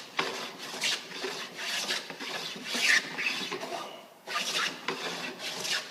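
A hand tool shaves wood, scraping off shavings as the high peaks of the surface are flattened down toward the valleys. The rasping strokes come close and steady in a repeated rhythm, with a brief pause near the four-second mark.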